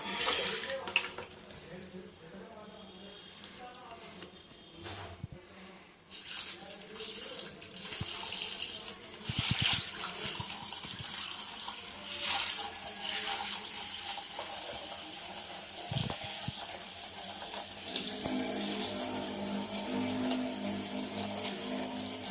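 Tap water runs steadily while clothes are washed by hand outdoors in a hill setting, a continuous splashing wash with brief louder surges and a short quieter break near the start; a voice speaks faintly at times.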